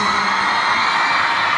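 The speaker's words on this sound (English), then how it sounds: "But the screaming during these breaks has gotta stop." A concert crowd at a show in Manchester screams and whoops in a loud, continuous roar that fills the whole stretch.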